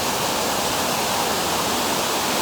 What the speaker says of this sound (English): this waterfall is only about 8 feet tall,